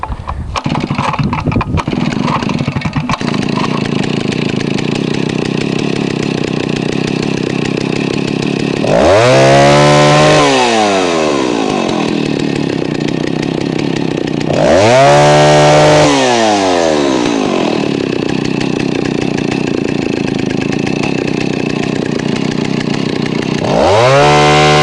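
A Stihl 08S chainsaw fires up and runs loud and close, its engine revving up in three long sweeping surges that rise and fall between steadier idling stretches.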